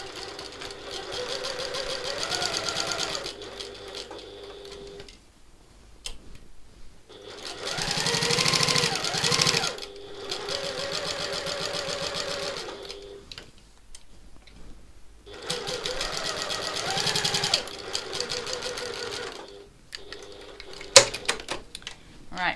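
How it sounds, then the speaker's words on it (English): Sewing machine basting the sides and bottom of a satchel bag with a long stitch length, running in three separate bursts of rapid mechanical chatter with quiet pauses between, close and moderately loud. "So to baste it, just increase your stitch length. We're sewing along the sides and the bottom"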